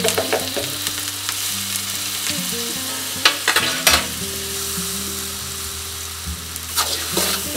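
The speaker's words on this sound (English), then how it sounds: "In high heat, we're going to keep cooking it until it reduces." Sambal frying on high heat in a pan for nasi lemak with tofu, a steady loud sizzle with occasional stirring scrapes and clatter, close, and no talk.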